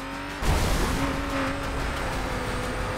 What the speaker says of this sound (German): Das Auto wirbelt da umeinander